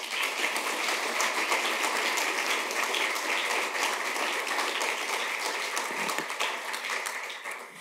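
An audience applauding to welcome a speaker at a lecture, a dense, sustained round of clapping that holds steady and fades slightly at the end.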